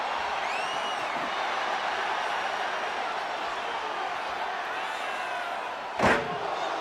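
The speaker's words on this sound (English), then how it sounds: "And now Austin gonna deliver the punishment with the steel chair." A steel chair strikes once with a sharp, loud slam in the WWE 2K25 wrestling game, landing late over a constant roar from the arena crowd.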